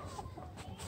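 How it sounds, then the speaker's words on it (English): A baby rooster at a petting zoo gives faint, soft clucks, a few quick low calls close by in a quiet outdoor setting. "Oh my god, look, it's a baby rooster"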